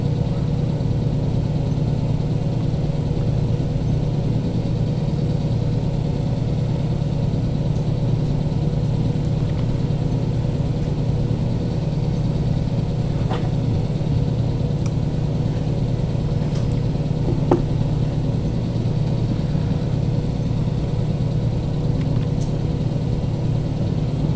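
A locomotive engine in the Derail Valley train game runs as a continuous low, droning rumble with no breaks, steady and fairly loud throughout, with only faint occasional clicks on top.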